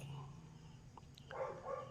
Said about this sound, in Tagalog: Kahol ng aso, tilawak ng manok